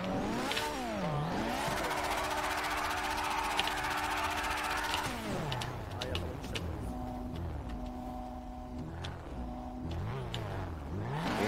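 A car engine in GTA 5 during a street race against a police car, revving and accelerating hard with rising and falling pitch sweeps as gears shift, loud and close throughout.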